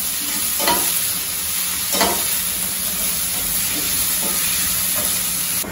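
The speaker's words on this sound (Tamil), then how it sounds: "பொடியா நறுக்கின ரெண்டு வெங்காயம், இதை நல்லா வதக்கிடுவோம்" Two finely chopped onions sauté in a pan with a steady, close sizzling hiss, punctuated by a few distinct scrapes of a spoon stirring them.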